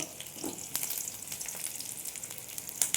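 Dense crackling and sizzling of mustard seeds popping in hot oil, with sharp irregular pops over a steady frying hiss, close up.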